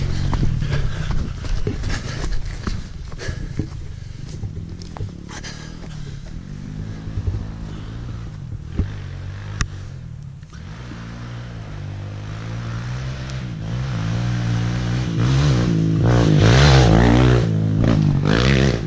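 A Kawasaki KLX 140L dirt bike runs on a private turn track, its engine droning steadily up close and then climbing louder and higher in pitch toward the end, with no talking.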